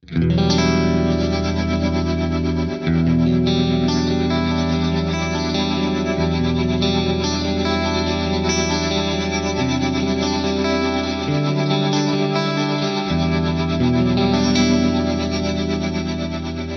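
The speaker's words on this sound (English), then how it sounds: "using a plex delay block to create a washed out delay and then a tremolo to chop that up" Heavily effected guitar through an Axe-Fx plex delay block, with washed-out delay repeats rhythmically chopped by a tempo-synced pulsing tremolo, sustained and loud throughout.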